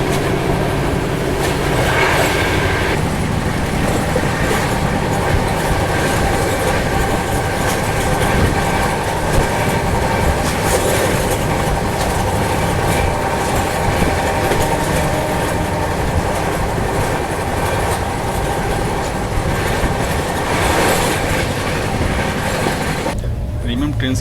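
Inside an AC chair car of the Gatimaan Express at 130 km/h, a continuous loud rumble of wheels on track carries faint rhythmic clatter and steady interior noise, with speech mixed in.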